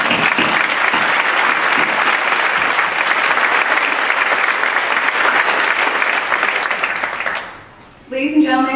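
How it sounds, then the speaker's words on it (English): A large audience at a law awards ceremony bursts into loud, sustained applause that runs strongly for about seven seconds, then quickly dies away into near quiet before a voice begins speaking. "You also deserve a big round of applause for writing your final Ontario bar exam yesterday"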